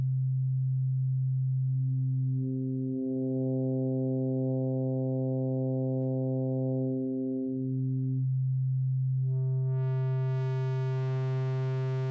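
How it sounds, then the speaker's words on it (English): A pure, steady sine wave tone from a Teenage Engineering OP-XY synth holds a low pitch while higher notes join in, ending in brighter, buzzier synth tones; no voices. "Very basic sine wave."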